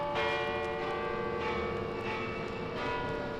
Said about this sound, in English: Well, what do you know? The bells!